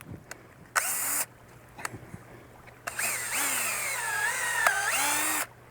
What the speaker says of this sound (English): As we drill that hole, it's going to be at an angle so that the sap can flow down.